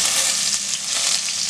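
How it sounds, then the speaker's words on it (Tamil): Loud, steady sizzling of spices frying in hot oil, a continuous crackling hiss close up with no voices. "அது மாதிரி தட்டி போட்டு தாளிச்சுக்குங்க."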